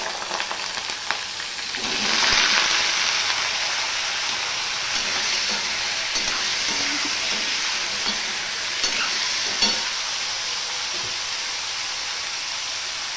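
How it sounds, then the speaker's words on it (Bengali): Potatoes dropped into hot oil tempered with nigella seeds set off a loud, close sizzle that surges and then holds as a dense, even hiss, with a few faint stirring knocks and no talking. "ফোড়নটা হয়ে গেলে আমি আলুটা দিয়ে দিচ্ছি"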